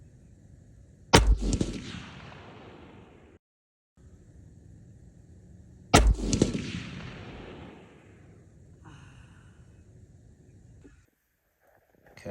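Two loud, sharp rifle shots from a 7mm PRC rifle firing factory Hornady 175 ELDX ammunition at a range, each followed by a long rolling echo and a few seconds of quiet between them.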